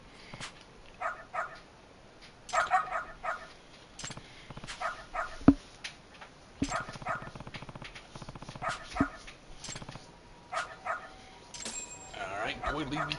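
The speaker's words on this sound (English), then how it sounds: "Calling the dog." A dog in the video game Lost Judgment barks and yips in scattered bursts amid game sounds, with voices talking throughout.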